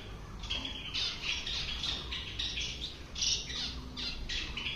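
A pair of cockatiels squawking and fighting, harsh raspy calls in rapid overlapping bursts, close and fairly loud throughout.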